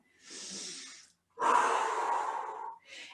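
Slow, deliberate breaths during a gentle seated exercise class, heard up close: a soft breathy exhale, a pause, then a longer, stronger airy inhale-exhale and the start of another, with no talking.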